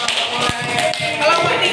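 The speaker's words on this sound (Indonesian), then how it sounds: "Iya, tepuk tangan, Cak." Classroom of students clapping hands in a short, uneven burst of claps, fairly near, with some murmured voices underneath.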